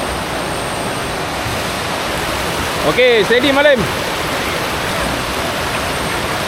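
A mountain river rushes steadily across the whole span during a hike on Gunung Berembun, a broad close wash of flowing water, with a brief burst of voices from the hikers crossing it near the middle.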